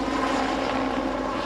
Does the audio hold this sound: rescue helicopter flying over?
yes